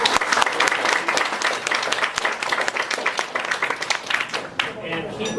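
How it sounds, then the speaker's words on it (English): Loud, sustained applause from a luncheon audience, many hands clapping densely and continuously at close range, with a slight drop near the end before it carries on. "Can we get one more round of applause?"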